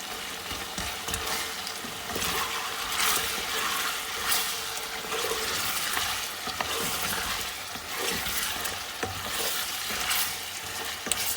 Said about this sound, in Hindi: और 1-8 मिनट के लिए ये लहसुन पेस्ट भूनेंगे।